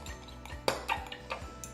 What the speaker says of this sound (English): I'm gonna stir it up to make sure that that preservative is mixed into the hair mask.